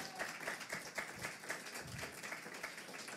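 A fairly faint, steady patter of audience applause at a Quebec environmental research event, with individual claps blending into a continuous wash throughout.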